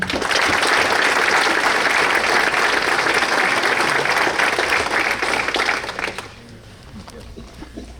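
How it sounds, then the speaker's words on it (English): Audience at a boys lacrosse team banquet applauding loudly and steadily for about six seconds, then the clapping fades away quickly into quiet room noise. "give a big, big round of applause for our varsity underclassmen."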